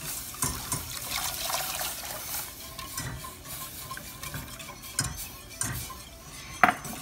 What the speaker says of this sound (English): I'm gonna go ahead and add my milk while whisking